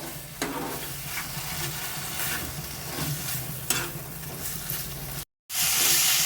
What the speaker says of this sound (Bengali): এখানে বেশি রান্না করবো না, একটু সাঁতলে নেব মাংসটা